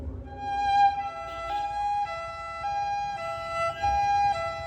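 A human voice mimics an ambulance siren during a comedy fusion music stage performance, giving a sustained, wavering two-tone wail that repeats steadily and sits loud and close.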